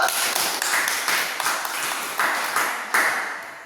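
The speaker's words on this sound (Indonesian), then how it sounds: "tepuk tangan dulu" Short bursts of hand clapping in a classroom lesson, several sharp rhythmic rounds of claps repeating every half second or so, fairly close and moderately loud, with no talking over them.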